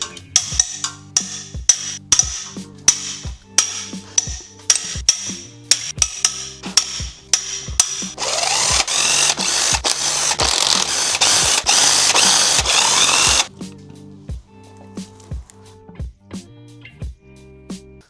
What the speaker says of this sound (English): Let's get the cylinder head off.